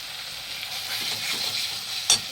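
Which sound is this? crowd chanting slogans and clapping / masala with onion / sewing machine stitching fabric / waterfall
masala with onion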